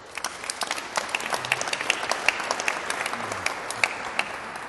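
Crowd applause at a political hustings in Colchester, a sustained patter of many hands with scattered louder claps close by, no voices over it.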